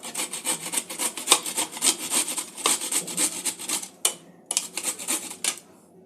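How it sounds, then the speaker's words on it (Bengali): Cauliflower florets are rubbed over a grater in quick, rhythmic rasping strokes, loud and close, with a brief pause before the scraping resumes and then fades. "প্রথমে ফুলকপিটাকে আমি একটু গ্রেট করে নেব।"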